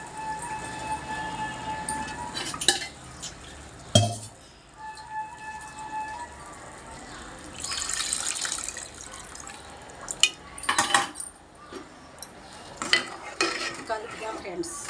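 Tamarind is stirred into a pot of fish curry, giving intermittent wet stirring and occasional metal knocks against the pot over a quiet background, with a few louder bursts of clatter.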